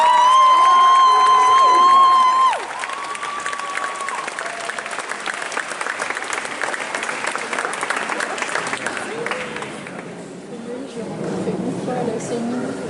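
Audience applause with cheering at a Sunday cosplay contest in Wesserling, 2019, loud and steady throughout with a few shouts mixed in, ending in a murmuring crowd as the noise thins out.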